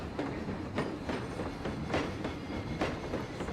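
A train runs along rails in the Planet Coaster video game, a steady rolling rumble with rhythmic clicking as the wheels pass over the track joints, moderately close.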